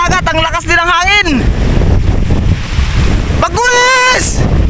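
Strong wind roars over a rough sea in steady, loud broadband noise that buffets the microphone, while someone shouts twice in long calls over it.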